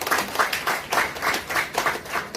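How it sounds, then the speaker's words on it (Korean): Applause after a Korean lecture on brain health and neurofeedback, a small audience clapping in loose, pulsing waves, close and moderately loud, with no talking over it. "강의해 주신 박병훈 박사님께 한 번 더 큰 박수 부탁드리겠습니다"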